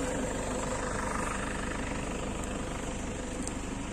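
A car engine idles loudly and steadily throughout, a constant low rumble with no voices.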